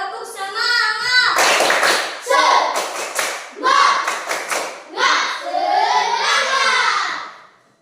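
Students in a classroom repeat the 'tepuk semangat' clapping chant, sharp clustered hand claps and thumps in rhythmic bursts mixed with loud group chanting close by.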